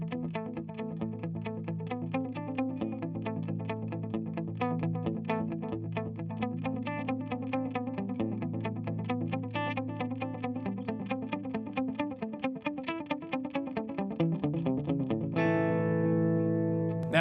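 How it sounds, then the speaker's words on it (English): Guitar played through a JHS Pink Panther delay pedal on its analog side, sustained chords with echoing repeats trailing behind each note, steady and fairly loud with no voice, a brighter swell near the end. "You can use this side and you still kind of have an analog thing going, but the repeats are cutting through a little more."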